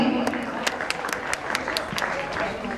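An audience applauds the rangoli child artists at a school NCC Day celebration, giving a dense, continuous burst of clapping with sharp individual claps standing out throughout.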